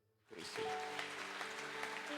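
A church congregation breaks into applause after a brief silence, a dense, steady clatter of clapping over sustained musical tones, fairly distant and soft.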